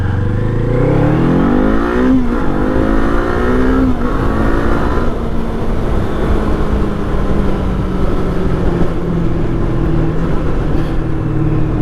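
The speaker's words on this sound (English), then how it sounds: "Alright, let's do a little acceleration." A Kawasaki Eliminator motorcycle accelerates on an afternoon ride, its engine revving up through rising pitch with gear changes, loud and close over constant wind rush.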